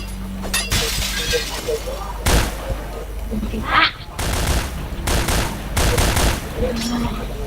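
Rapid bursts of gunfire from the online shooter game Point Blank, loud and close, with sharp shots and glassy breaking sounds, under intermittent voices.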